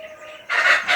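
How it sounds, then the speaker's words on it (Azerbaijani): Chickens in a house yard, a brief pair of bird calls, the second louder and harsher, near and clear against a quiet background. "Toyuqlar, nə bilim, küçədən səslər gəlir."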